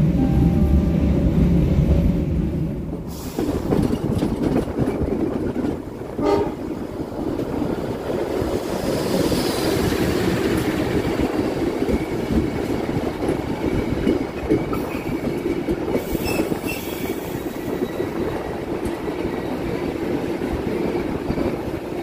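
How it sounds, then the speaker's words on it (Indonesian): The Serayu passenger train pulls into Cibatu station in Indonesia with a steady rolling rumble and rattle of wagons, close by and moderately loud, with wind noise against the microphone and an earlier burst of louder rumble. "Kereta api Serayu saat ini merapat di jalur 2 jalur lurus stasiun Cibatu."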